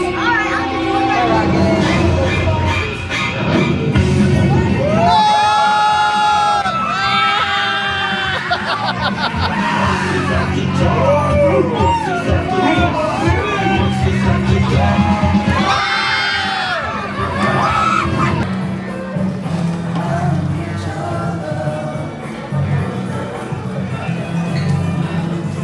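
Passengers on a Disneyland dark ride shriek and scream loudly in rising, wavering bursts, with laughter, chatter and the rumble of the ride vehicle running underneath.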